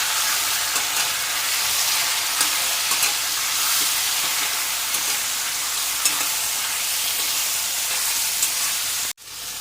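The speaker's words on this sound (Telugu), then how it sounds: "ఇప్పుడు మామిడికాయ ముక్కలు వేసుకున్నాక కొద్దిగా పసుపు వేసుకుందాం. ఇప్పుడు కలుపుకుందామండి." Mango pieces and turmeric frying in a pan while being stirred, giving a loud, continuous sizzle with scraping stir strokes. It cuts off abruptly near the end.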